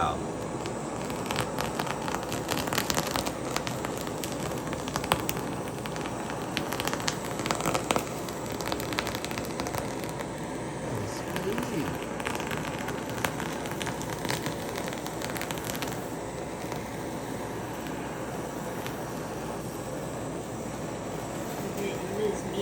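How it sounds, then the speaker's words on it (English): A handheld kitchen torch searing a chimichurri steak sandwich: a continuous close roaring hiss with scattered crackles and pops, with people talking over it. "So I'm gonna torch it."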